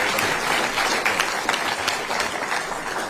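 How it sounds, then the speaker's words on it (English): An audience claps steadily for Adam, who has been called up onto the stage at a Conservative political event, with dense, sustained applause filling the room for about three seconds and no talk over it. "let's give Adam a round of applause."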